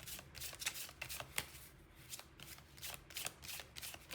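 Tarot cards shuffled by hand in a quiet room, a steady run of soft riffling flutters and sharp taps repeating for several seconds, close and clear with no talking.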